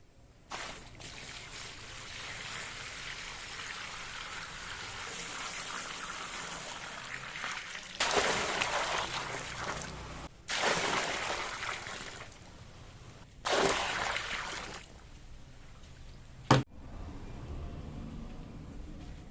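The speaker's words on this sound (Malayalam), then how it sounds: "ഇനി നമുക്കിതിൽ വെള്ളം ഫില്ല് ചെയ്യാം" Steady rushing water runs throughout, like a hose filling a tank, with a few louder surging bursts and a brief sharp knock near the end.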